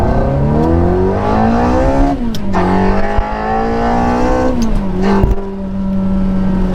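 A manual Ferrari 360 engine revs up through the gears on a twisty road, close by, pitch climbing and dropping at each shift, loud and continuous from inside the car.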